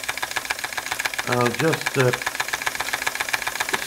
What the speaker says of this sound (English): It's a lovely old engine.